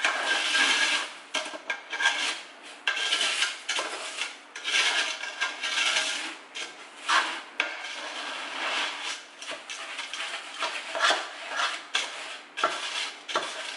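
A cereal mixture for homemade cocoa pebbles stirred with a spatula in a bowl, giving close, repeated rasping and scraping strokes in an uneven rhythm, no talk.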